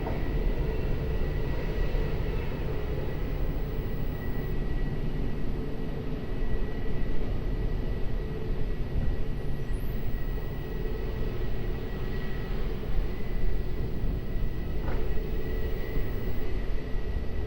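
An Airbus A330 airliner departs Lisbon Airport as a steady, distant jet roar. It holds a broad rumble throughout with no voices.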